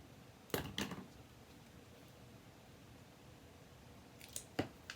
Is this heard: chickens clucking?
no